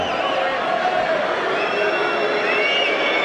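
A tennis crowd at the ATP 2011 final booing Boris Johnson, a sustained loud mass of jeering voices filling the arena, with scattered shouts rising over the din for the whole stretch.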